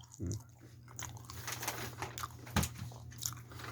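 Someone eating red-bean-filled fish-shaped bread (bungeoppang) indoors, with a few soft bites and chewing sounds close by over a low steady hum, no talking.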